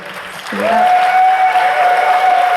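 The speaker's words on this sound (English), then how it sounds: "I want a round of applause for all of them and the guys who pitched here" An audience at a startup pitch competition grand final claps loudly and continuously, the applause swelling after a moment while a steady tone holds underneath.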